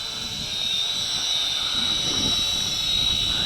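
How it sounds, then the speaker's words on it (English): A Shengkai D97 WiFi FPV quadcopter drone hovering outdoors on a windy day, a steady high-pitched motor whine with a constant near whir and faint wind rumble underneath. "I just want to show you the stability of this quadcopter in beginner rate"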